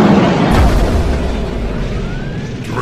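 Torpedo striking its target in a science-fiction space battle: a loud, close, sustained explosion with a heavy low rumble that starts with a burst and fades slowly over about three seconds.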